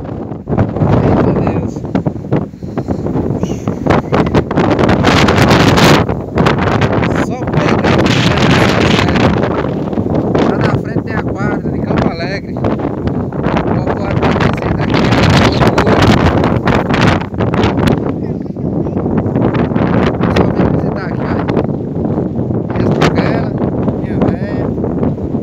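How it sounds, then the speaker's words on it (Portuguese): Strong wind buffets a high mountain top at Serra do Pedro, Lagoa do Ouro, Pernambuco, roaring loudly across the microphone in gusts with brief lulls, while a person speaks intermittently underneath. "Vento muito forte."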